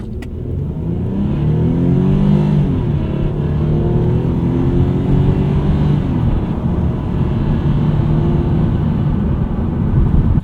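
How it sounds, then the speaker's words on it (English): A 2005 Toyota Solara V6 accelerating hard. Its induction roar rises and holds in a loud, steady, close drone from inside the car, and no one speaks. "the induction noise in this V6 isn't quite as good as the 90s Camry"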